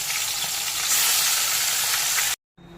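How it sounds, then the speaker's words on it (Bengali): Fish frying in hot mustard oil in a wok, a loud dense sizzle and hiss running steadily until it cuts off abruptly near the end. "তেল গরম হয়ে গেছে, মাছগুলোকে সেটার মধ্যে ছেড়ে দিলাম।"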